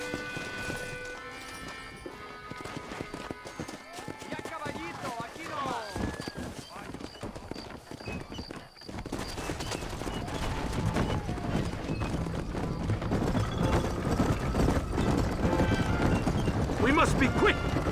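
Horse hooves clip-clop and gallop in Red Dead Redemption, the Mexico stretch on the way to Chuparosa, building from sparse thuds into a louder, steadier rumble of riding over the second half amid game music and effects.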